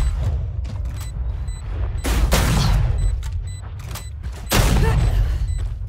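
Gunfire in a shooting video game: repeated sharp shots and rapid bursts crack close and loud, with two heavier booming volleys midway and near the end.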